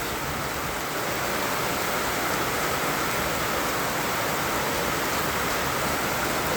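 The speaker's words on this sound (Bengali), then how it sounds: "বৃষ্টিটা হচ্ছে আজ" Steady rain falls with a dense, even hiss that stays constant from start to finish, with no voices.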